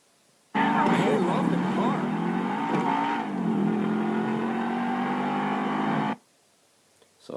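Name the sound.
car racing engine in video game Grand Theft Auto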